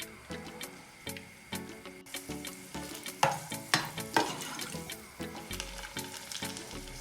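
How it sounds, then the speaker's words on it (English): Garlic stirs in hot oil in a pan, with a spoon scraping and tapping in a quick uneven rhythm over faint sizzling, close up, with a low musical background running throughout. "So I'm going to stir here, guys"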